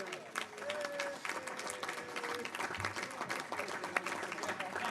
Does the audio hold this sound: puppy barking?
no